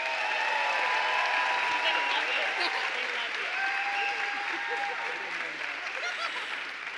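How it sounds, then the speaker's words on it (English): Sustained applause from a conference audience greeting a student panel at an education event, a dense steady wash of clapping that holds for the whole stretch and fades slightly toward the end, with faint voices mixed in. "So please give them a big round of applause."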